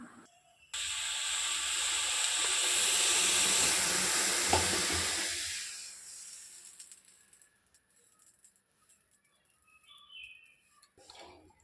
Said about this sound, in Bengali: এই দেখো দুধটা গরম হয়ে গেছে, এটা ফুটে উঠে গেছে।